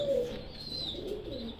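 Pigeons coo softly and steadily, a low rolling murmur close by with faint birdsong higher up.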